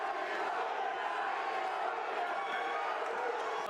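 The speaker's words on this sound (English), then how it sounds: "we're here in the crowd here chanting AB" Crowd noise at a boxing match, a dense steady roar of many voices chanting and shouting for a young fighter, continuous and fairly distant throughout.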